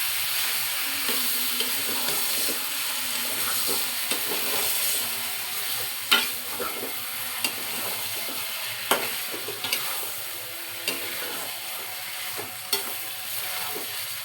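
Beef for biryani is stirred in a frying pot, with a continuous close sizzle, scraping strokes and several sharp spoon knocks against the pot, and no talking.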